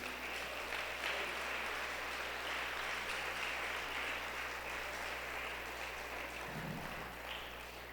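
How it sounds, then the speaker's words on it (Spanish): A church congregation applauds steadily, a dense wash of clapping that fills the space at moderate level, with a brief low thump near the end and no talk over it. "Dale un aplauso al Rey de Reyes."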